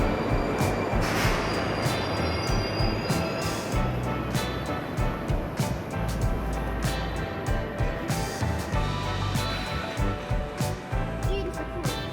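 Moscow metro train in an underground central station, with loud continuous rumble, screeching wheels and clattering carriages filling the whole stretch, rising and falling as the cars move past.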